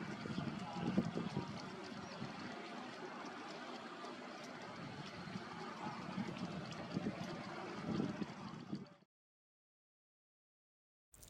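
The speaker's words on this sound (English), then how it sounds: "Reedham Ferry is back in operation once again" The 40-year-old Reedham Ferry operates on the river with a steady, low broadband rumble mixed with wind buffeting for about nine seconds before falling silent.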